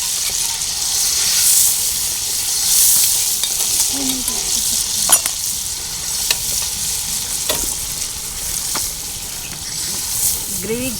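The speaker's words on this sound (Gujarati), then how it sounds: "આપણો આ મસાલો બળે નહીં એ માટે." A spice masala paste with puree fries in a pan for a Kathiyawadi varadiyu vegetable dish, with a continuous sizzle broken by scraping stirs and clinks, and a voice talking briefly near the end.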